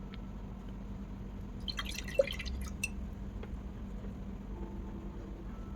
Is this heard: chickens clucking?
no